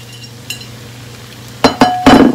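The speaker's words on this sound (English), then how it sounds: "I'm gonna add some green onion" Green onion goes into a wok of frying vegetable chow mein: a quiet background hum, then a few loud, close clinks and scrapes of a utensil stirring against the pan.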